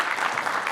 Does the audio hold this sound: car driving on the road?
no